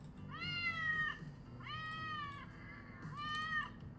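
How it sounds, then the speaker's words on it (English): A cat stuck at the top of a tree meows three times, each call long and rising, fairly close and clear over a low steady background rumble. "It looks like a cat has got stuck, Delia says."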